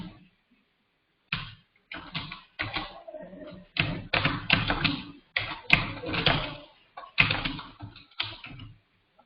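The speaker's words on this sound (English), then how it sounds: "although I'm typing" Rapid bursts of keyboard typing while writing React code in Visual Studio Code, clustered clacking keystrokes in irregular runs with short pauses, close and moderately quiet.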